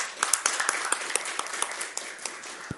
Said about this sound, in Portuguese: uma salva de palmas para você, Rosaline